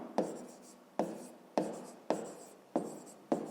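Pen or chalk writing down a fifth-grade math answer, a series of six short scratchy strokes at a steady pace, close and fairly quiet with no talking.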